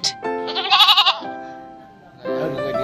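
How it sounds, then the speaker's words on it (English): A goat bleats loudly and close by, one wavering bleat followed after a pause by another rising bleat, with no other sounds around it. "Goat."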